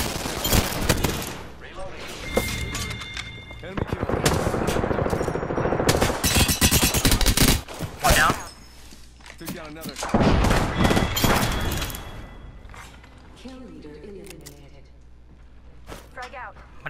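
Devotion machine gun fire with a turbocharger in a battle royale video game: long sustained automatic bursts, loud and close, alternating with other gunfire and frequent talk over the top.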